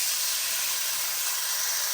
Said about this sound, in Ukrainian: Друзі, пательня наша розігрілась. Беремо і смажимо.